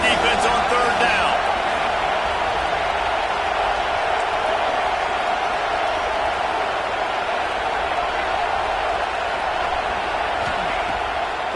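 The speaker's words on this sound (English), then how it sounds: "Decibels rising as the crowd gets behind this defense on third down." Football stadium crowd at a Georgia college game on third down, a dense, sustained roar of cheering voices that holds steady and loud throughout, with a commentator talking over it.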